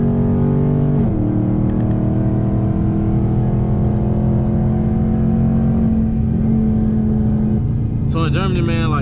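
A 2021 Dodge Charger Scat Pack pulls hard in fourth gear on the German Autobahn, its engine note droning steadily and rising in pitch. The driver talks over it.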